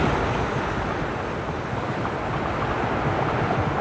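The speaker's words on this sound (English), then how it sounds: "high winds lashing the coast and the sea" Stormy sea on a rugged coast, with steady roaring surf and gusting wind buffeting the microphone, a dense continuous wash of crashing waves and blustery air throughout with no pauses.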